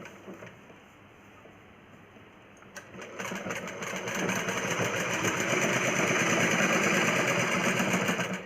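A sewing machine stitches a plain cross-cut blouse, running in a steady, buzzing drone that swells noticeably louder after the first few seconds and continues at full level to the end.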